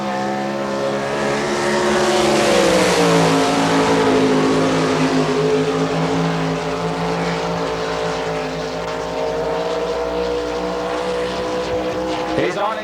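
A 2F race car from California roars past at an NCRA All Stars Outlaw Challenge Series race in Belleville, Kansas, in 1998: a loud, sustained engine howl whose pitch sweeps down and levels off as the car runs the track.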